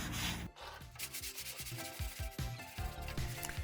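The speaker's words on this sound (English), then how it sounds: "After sanding the door down," Rough, rhythmic sanding strokes on a wooden door, a repeated scraping rub, close and fairly loud with no talking.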